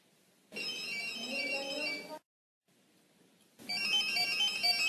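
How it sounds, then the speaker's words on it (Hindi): Mobile phone ringtone chiming indoors in two bursts of a bright, melodic electronic tune, separated by a short silence, with no talking over it. "किसका फोन आ गया?"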